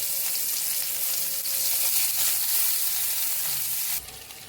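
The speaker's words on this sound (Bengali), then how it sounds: "এবারে দিয়ে দেবো পেঁয়াজ কুচি," Chopped onion dropped into hot oil already holding white cumin, a bay leaf and a dried red chilli, giving a loud, steady close sizzle that drops off abruptly near the end, with no talking.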